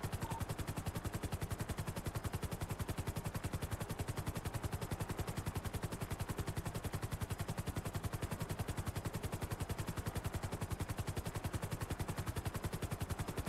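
Helicopter rotor thudding in a steady, rapid rhythm throughout during a video game police chase, loud and continuous with no voices over it.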